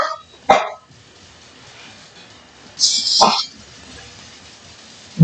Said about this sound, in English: It's the dogs out there.